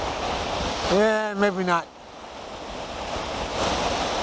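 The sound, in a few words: ocean waves breaking on the shore at high tide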